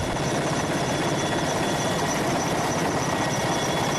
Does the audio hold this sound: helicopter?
yes